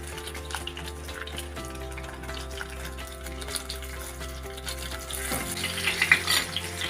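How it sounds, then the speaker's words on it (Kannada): Green chilies, ginger, garlic and onion fry in a pot of oil for a country chicken curry. A steady low sizzle is heard under a droning background hum, and it grows louder and brighter toward the end as more goes into the pan. "ಪಾತ್ರೆ ಇಟ್ಕೊಂಡು ಅದಕ್ಕೆ ಸ್ವಲ್ಪ ಎಣ್ಣೆ ಹಾಕ್ಕೊಂಡಿದ್ದೆ ಮೆಣಸಿನ್ಕಾಯಿ ಹಾಕ್ಕೊಳ್ಳೋಣ ಶುಂಠಿ ಬೆಳ್ಳುಳ್ಳಿ ಮತ್ತು ಈರುಳ್ಳಿ"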